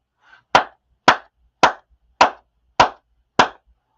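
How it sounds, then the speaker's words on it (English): A single person claps hands six times at a steady, even pace, each clap sharp, close and loud, with near silence between them. "I'm going to clap"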